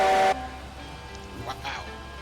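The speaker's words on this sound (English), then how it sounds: "Nice whistle." A deep steam locomotive whistle in the Railroads Online video game gives a loud, harmonic blast lasting about a third of a second, then fades into quieter background noise while people react.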